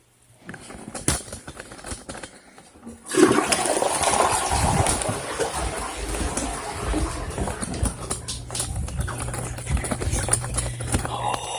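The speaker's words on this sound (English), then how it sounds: "So I'm going to flush the toilet and run out there like I did earlier." Household toilet flushing during use of Green Gobbler Main Line Opener on a clogged main drain line: a quiet lead-in, then a loud rushing, gurgling flush of water that continues steadily, close by, with no talk.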